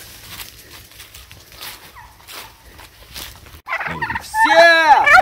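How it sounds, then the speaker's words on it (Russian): A turkey gobbles loudly and close in a rapid rattling burst at the end, after a few seconds of quiet footsteps and faint rustling outdoors in a forest. "Смешная птица."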